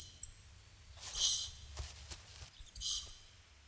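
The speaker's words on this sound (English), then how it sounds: "The speaker is hidden at the back of the room and is used to play the high-pitched squeaks." High-pitched, mouse-like squeaks come from a speaker hidden at the back of a room, repeating as short shrill bursts separated by faint pauses.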